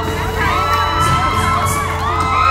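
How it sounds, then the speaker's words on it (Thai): Concert audience at a Thai temple fair crowd cheering and clapping, a dense steady roar of shouts and applause with high children's-style whoops rising throughout, loud and close-filling for the whole stretch. "ปรบมือดังๆ"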